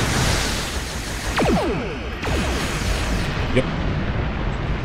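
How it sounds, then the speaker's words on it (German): Starship cannons firing in the space game Star Trek Online, a few booming bursts and descending energy sweeps in quick succession, loud and close, while someone speaks briefly. "und jetzt volle Kanone und Feuer."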